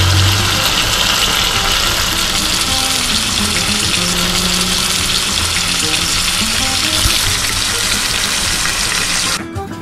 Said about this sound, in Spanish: lo siguiente es que vamos a calentar nuestro aceite cerca de 180-200 grados y posteriormente le vamos a echar nuestra